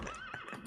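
A horse in a farming video game gives a brief, faint whinny with a quivering rise and fall, heard alone in a short burst.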